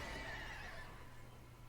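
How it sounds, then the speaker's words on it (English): A short, natural-sounding horse whinny used as a vocal effect for a video game ability, loud and close at first, then tailing off into a fainter breathy rumble. "For the horse neighing vocals"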